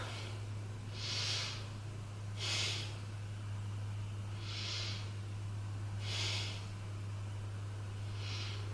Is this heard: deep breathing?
yes